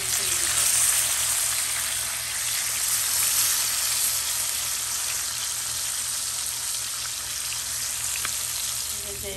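Tomatoes fry with browned onions in a hot pan, giving a continuous, close, even sizzle that holds steady throughout.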